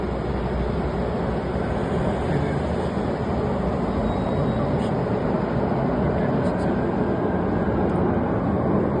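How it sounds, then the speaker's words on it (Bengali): A metro train passes on a line in Poland, a loud, continuous broadband rumble and rush that holds steady throughout with no clear pauses. "এই পাশে হচ্ছে একটা মেট্রো লাইন, ট্রেন যাচ্ছে।"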